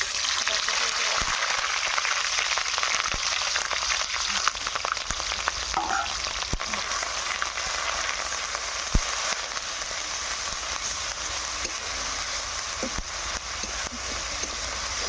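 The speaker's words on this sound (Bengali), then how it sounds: "এবারে একটু ভালোভাবে ভাজিয়ে নিতে হবে" Onions frying in a pan give a loud, steady, dense sizzle and crackle that runs without a break, close up, with faint scattered clicks from the pan and no voices.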